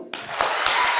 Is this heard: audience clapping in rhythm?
yes